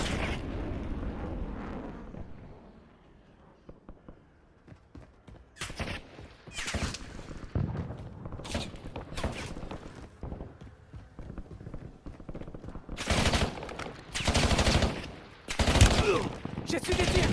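Bursts of gunfire and explosions from the video game Warzone, loud and sharp, coming in clustered volleys with quieter gaps, mixed with background game noise and talk.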